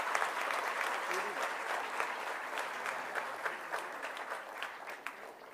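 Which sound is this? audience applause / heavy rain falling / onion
audience applause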